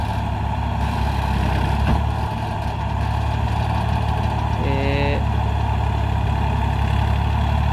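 Massey Ferguson tractor engine labors steadily in deep mud with a loud, low diesel drone; a short tonal squeal rises briefly midway through.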